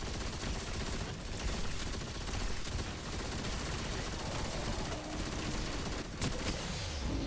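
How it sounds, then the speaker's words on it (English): Machine gun fire in Destiny 2 during a solo Grandmaster Nightfall in The Devil's Lair: a dense, sustained barrage of rapid shots, loud and close, with no pauses and no talking. "And that is why this machine gun is good."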